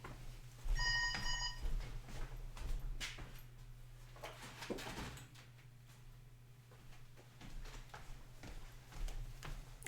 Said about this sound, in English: And for some reason my phone is ringing.